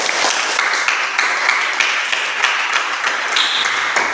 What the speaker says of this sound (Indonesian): Berikan aplaus untuk Mas.